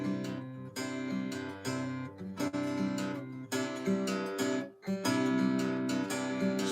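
Acoustic guitar playing a song, chords strummed in a steady rhythm and released short for a detached feel, with brief gaps between them, one clear pause near the end, close and moderately loud.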